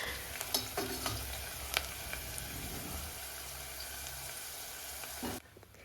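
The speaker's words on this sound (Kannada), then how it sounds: "ಹಾಗೆ ಒಂದು ಸ್ವಲ್ಪ ಶುಂಠಿ ಮತ್ತು ಬೆಳ್ಳುಳ್ಳಿಯನ್ನು ಸೇರಿಸ್ಕೊಂಡು ಚೆನ್ನಾಗಿ ಇದನ್ನು ಬಾಡಿಸ್ಕೊಳ್ಬೇಕಾಗತ್ತೆ" Onion, ginger and garlic sautéing in hot oil in a pressure cooker for avarebele sambar, a steady close sizzle with spoon stirring and scraping clicks, ending abruptly near the close, no talking.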